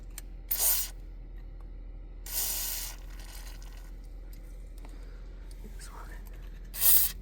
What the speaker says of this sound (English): let's put some penetrant on there real quick